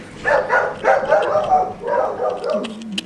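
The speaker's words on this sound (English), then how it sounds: "Don't mind the dog thing." A dog gives a series of yelping barks and whimpers, close and fairly loud, in uneven bursts over about three seconds, with a higher whining note near the end.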